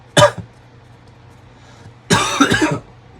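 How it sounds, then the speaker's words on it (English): Two separate coughs from one person, a short sharp burst near the start and a longer, harsher fit after a quiet pause, close and fairly loud. "I have this weird cough"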